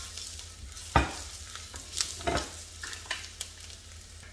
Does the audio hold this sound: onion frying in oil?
yes